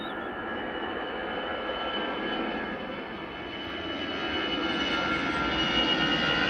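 A fixed-wing airliner passes at Liverpool Airport, its engine roar steady and moderately distant, swelling slightly louder toward the end with no talk over it.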